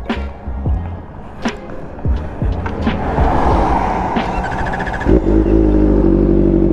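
Kawasaki ZX-4RR motorcycle: a few clattering knocks and handling sounds come first, then a steady, low engine idle sets in nearby and holds to the end.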